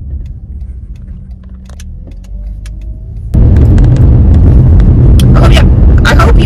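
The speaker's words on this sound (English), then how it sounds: "my car is kind of loud when I'm driving." Car interior engine rumble while driving in Wichita, Kansas, quiet at first, then suddenly loud and roaring as the vehicle accelerates, with rattles and clicks on top.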